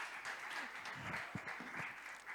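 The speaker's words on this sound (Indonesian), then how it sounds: "Tepuk tangan." Faint, somewhat distant clapping from a congregation at a church youth service fills the short moment evenly, with no talking over it.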